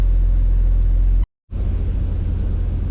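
A 2024 Porsche 911 Carrera Cabriolet being driven, with a steady low engine and road rumble that cuts out briefly near the middle and then resumes.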